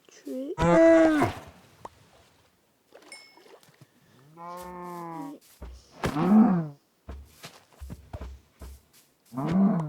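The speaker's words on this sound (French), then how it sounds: "Tiens, des vaches." Cows in a video game give several drawn-out, low moos, loud and close, spaced across the stretch with short bursts of game noise between them and no speech over the calls.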